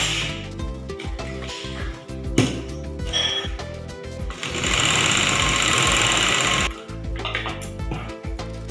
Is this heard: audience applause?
no